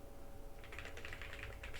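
Typing on a computer keyboard, a quick run of soft clicking keystrokes under a steady background hiss, faint and close.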